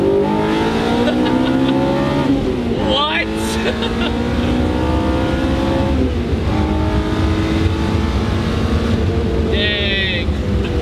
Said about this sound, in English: When it hits VTEC, it just takes off,